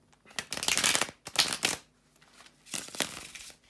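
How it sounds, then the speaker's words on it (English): Tarot cards are shuffled close by in three brisk riffling bursts, separated by short quiet pauses. "to shuffle the tarot cards"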